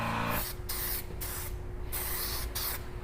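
A paint spray gun, run off a small Harbor Freight compressor, sprays a fan pattern of sealer for spot painting a car, giving loud, steady hissing bursts broken by brief pauses as the trigger is released.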